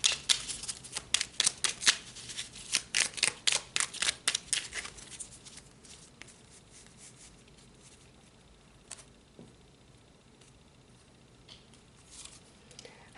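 Tarot cards are shuffled by hand close up in a quick run of crisp riffling snaps. The shuffling then slows into softer, sparse card slides and taps as cards are pulled.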